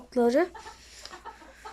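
Chickens cluck close by, one loud, rising call followed by softer scattered clucks and rustling from a mixed flock of chicks and bantams.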